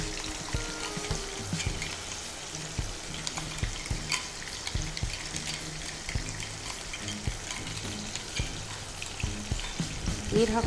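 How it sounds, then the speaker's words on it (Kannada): A cumin tempering and ground paste fry in hot oil with a low, steady sizzle, while a utensil stirs the pan in frequent soft knocks and scrapes, the sound fairly quiet throughout. "ಎಣ್ಣೆ ಬಿಸಿ ಆದ ನಂತರ ಜೀರಿಗೆ ಒಗ್ಗರಣೆ ಹಾಕ್ಬಿಟ್ಟು ನಾವು ಮಾಡ್ಕೊಂಡಂಥ ಪೇಸ್ಟ್ ಹಾಕೋದು"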